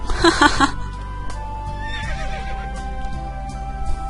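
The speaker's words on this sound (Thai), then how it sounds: "รถม้าดูเหมือนม้าของเล่น" A horse gives one loud whinny right at the start as a horse-drawn carriage pulls away. After it comes a quieter mix of hooves and rolling wheels, with faint background sound underneath.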